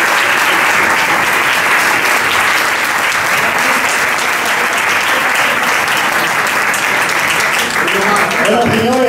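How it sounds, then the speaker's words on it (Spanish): An audience at a flamenco club applauds after a sung fandango, dense loud clapping sustained for several seconds with cheers mixed in, a voice beginning to speak near the end. "muchas gracias por los aplausos"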